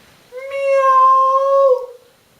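A person imitates a cat's meow with one long, loud, drawn-out voiced call lasting over a second, close and alone with no other sound.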